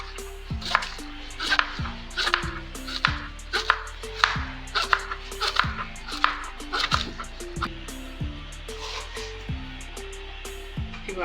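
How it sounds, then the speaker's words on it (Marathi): Cleaned taro (alu) leaves being finely chopped with a knife on a board: a steady run of close, crisp chops with short pauses, over a tonal background of music-like notes. "तर मी आता हे साफ केलेले आहेत सगळे तर असे आपल्याला फक्त परत बारीक कापायचे"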